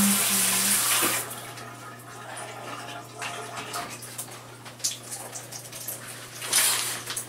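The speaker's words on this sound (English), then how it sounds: "I gotta go shower." Water runs from a household tap or shower, a loud hissing rush that cuts off after about a second, followed by quieter intermittent splashing and dripping with no speech.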